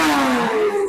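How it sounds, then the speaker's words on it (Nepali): Motorbikes at Shibuya crossing, Tokyo, rev hard as they pass, giving a loud, close engine roar whose pitch slides downward in one brief burst. "त्यो बाइकहरू खतरा पड्केर आयो"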